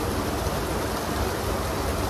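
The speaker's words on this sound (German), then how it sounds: "Jetzt regnet wieder." Steady, dense rain hisses on a holiday outing in Turkey, an even wash of noise with no talking over it.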